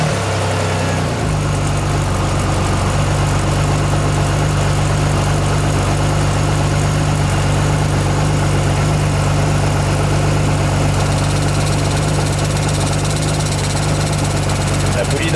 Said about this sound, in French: La poulie dampeur, elle est en train de se dessertir.